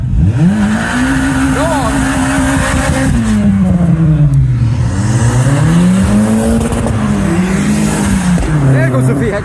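Modified cars, including a VXR, leave a car meet, their loud engines revving and accelerating with rising and falling pitch as they pass close by, while people talk and call out over the roar.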